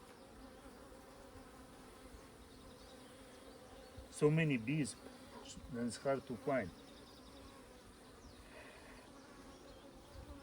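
Agitated honey bees on a hive frame give off a steady, close buzzing hum throughout, with a person briefly talking over it midway.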